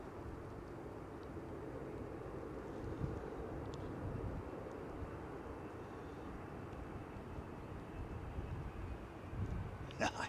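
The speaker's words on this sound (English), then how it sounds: "Hear all that wind rushing through the undercarriage" An airliner landing on runway 18R Polderbaan at Amsterdam Schiphol, a continuous low rushing roar of wind and reverse thrust, steady and fairly distant, with a sharper rattle near the end.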